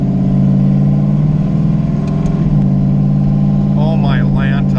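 A Chevstang's engine, fitted with 1500cc Snake Eater injectors, runs with a steady loud low droning hum from inside the car, smooth and even, while someone talks over it.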